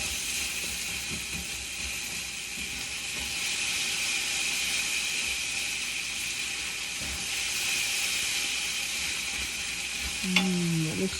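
Smoked eggplant bharta sizzles steadily in a hot pan while chili powder is mixed in, a loud continuous frying hiss with faint stirring scrapes and a brief clink near the end.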